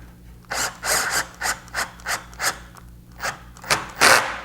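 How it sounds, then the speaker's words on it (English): Small woodworking screws are driven into countersunk holes in wood while building a fretwork console table. About ten close, rhythmic scraping bursts with brief pauses between them, and no talking. "I'm running these little woodworking screws up in them little countersink holes"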